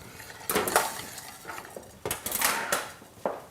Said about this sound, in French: je vais émincer la viande si vous êtes d'accord.